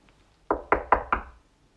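Four sharp, evenly spaced knocks on a door during a snowy night, close and loud with silence before and after.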